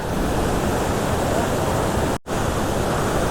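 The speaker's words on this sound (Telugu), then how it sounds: "చూడండి ఫైనల్గా మనం కుంబే వాటర్ ఫాల్స్కి వచ్చేసాం" Kumbe waterfall near Pune, Maharashtra, a steady, dense roar of falling water that fills the whole clip at constant loudness, with one brief dropout near the end.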